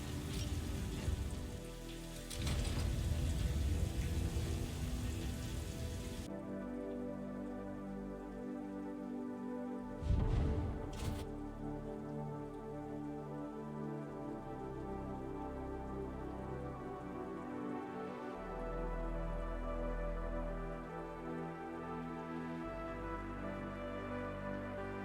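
Rain falling in the factory-building video game Satisfactory, a steady patter with a louder burst early on and another brief surge midway, over a humming ambient background.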